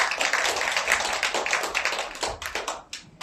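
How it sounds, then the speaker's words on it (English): Applause at a graduation ceremony from a modest group, individual claps clearly distinct in a brisk uneven patter that starts full and gradually thins to sparse, separate claps toward the end. "let's give her a huge round of applause"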